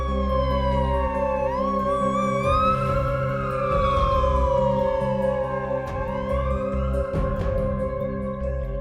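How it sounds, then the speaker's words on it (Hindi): A police car siren wails steadily, rising and falling in pitch over a sustained background drone and low rumble. "ये तो पुलिस के कार की सायरन की आवाज है ना?"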